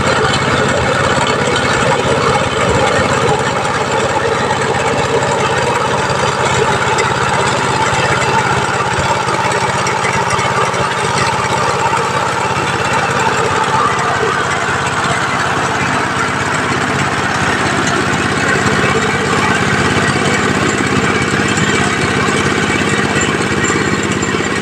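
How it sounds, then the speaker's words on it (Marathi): A rice reaper machine cutting a paddy field on a Konkan farm runs steadily and loudly throughout, a continuous engine drone with rattling cutter mechanism and no voices. "आता ही नवीन टेक्नॉलॉजीचा ह्या सरळ मशीन चालवल्यामुळे आडवश्या ह्या भात पडता बघू शकता"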